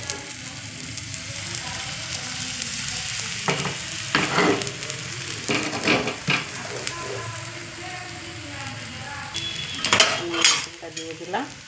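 Mixed batter frying in a pan, a continuous sizzle broken by several sharp bursts of spattering and clinks of a utensil against the pan, close and fairly loud, with no talking.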